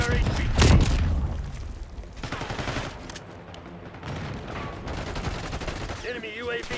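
Gunfire in the Call of Duty Black Ops 6 video game on PS5: a loud, dense volley at the start, then continued rapid rattling shots and booms, with radio-style voice callouts over the top.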